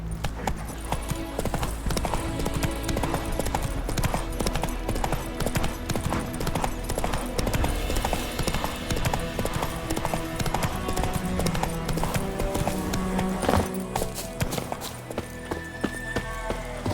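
Horse hooves galloping in The Witcher 3, a fast, continuous clip-clop rhythm that stays loud and close throughout, with a faint voice briefly heard in the background.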